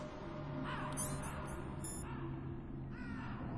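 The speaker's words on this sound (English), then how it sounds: "I hear crows." Crows cawing in the Metal Gear Solid PS1 video game: a few harsh, repeated caws ring out over a steady low ambient hum, with no talking.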